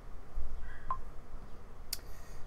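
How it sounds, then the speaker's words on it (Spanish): A mobile phone alarm sounds as a couple of short, sharp electronic beeps, each a split second long and spaced about a second apart. The beeps stand out over a quiet, low room hum. "me ha sonado la alarma del móvil"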